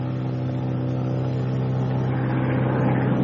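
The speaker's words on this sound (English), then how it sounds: "we unfeather the dead engine." Douglas A-20 Havoc twin-engine bomber with its dead engine unfeathered and brought back to life, a steady loud droning engine roar that swells slightly toward the end, with no voices.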